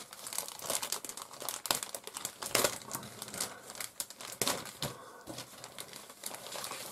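Crinkling plastic of a taped parts bag from a Tamiya 1/48 scale Focke Wulf FW190 D9 model kit being pulled open, continuous close rustling with sharp crackles and tearing for several seconds, no talk.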